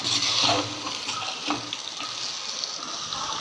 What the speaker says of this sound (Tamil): இந்த முயல் கறியை எடுத்து அதில் போட்டு நல்லா ஒரு இது வதக்கிக்கலாம்